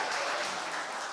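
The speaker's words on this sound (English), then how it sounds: "Round of applause for my dad." A brief burst of applause from a group of wedding guests during the speeches, dense clapping at moderate volume.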